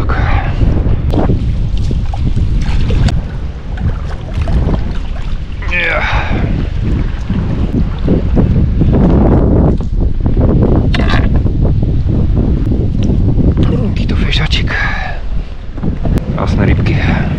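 Strong wind buffets the microphone in loud, continuous gusts during carp fishing outdoors, with voices talking intermittently beneath the roar.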